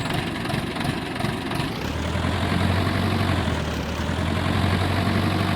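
A tractor engine idles in Farming Simulator 22, running evenly with a loud, steady low hum and vibration and no roughness or misfires.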